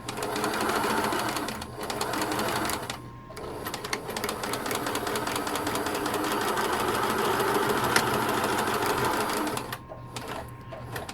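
A sewing machine stitches a bookbag strap along an old stitching line in a steady, fast mechanical chatter, pausing briefly twice before running again, close and loud.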